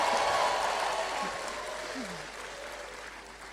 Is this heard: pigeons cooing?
no